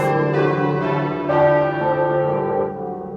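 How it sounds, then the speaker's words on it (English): Church bells of St Magnus the Martyr near Pudding Lane in London ring loudly in overlapping strokes, each peal swelling and slowly decaying into a rich, sustained hum. "the bells of this church, St Magnus the Martyr, just a street away from Pudding Lane, were ringing out in alarm"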